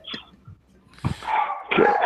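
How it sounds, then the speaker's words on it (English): Dogs bark and yip in a few short separate bursts, then a louder, more sustained stretch of agitated barking toward the end. "now there are dogs chasing"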